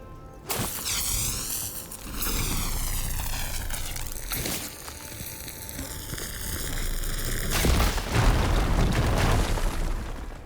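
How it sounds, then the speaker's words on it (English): A fire gleam deposit is blown up in Horizon Forbidden West, a heavy booming blast with a rushing roar and swept whooshing tones, followed by further rumbling bursts and a loud crash near the end. "Should be able to blow up that fire gleam."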